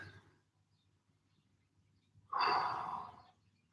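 A single deep breath during a stretching workout, a strong, airy exhale close to the mic after a quiet stretch, standing alone without talk.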